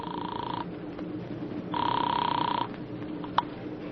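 Old-fashioned telephone bell ringing as a radio drama sound effect, two clear ringing bursts separated by a pause, followed by a brief click as the receiver is picked up.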